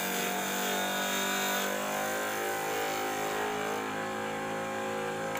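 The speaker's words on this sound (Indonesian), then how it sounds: "Anda perhatikan dulu suara dari putaran mesinnya." A low-wattage mini table saw with a cooling system runs and cuts wood, its motor holding a steady, loud, droning whine with a rough edge that stays even from start to finish, with no voices.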